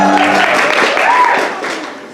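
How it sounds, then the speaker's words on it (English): Brief, thin applause from a convention panel audience, swelling slightly and then fading within about two seconds, with some crowd murmur and a voice mixed in. "Feels like a mercy applause."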